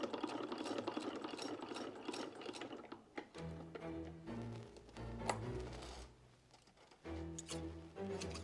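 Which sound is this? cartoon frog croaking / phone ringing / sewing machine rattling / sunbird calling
sewing machine rattling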